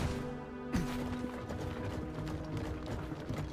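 Horse hooves clopping in the video game V Rising as a mount is parked in a stable, a steady run of hoof beats mixed into busy game ambience and music at moderate level.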